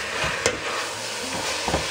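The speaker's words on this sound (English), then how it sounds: "Breaking down the meat a bit." Minced meat for a lasagne sizzles loudly in a pan, with a steady frying hiss and scraping stirs as it is broken up, heard up close and alone.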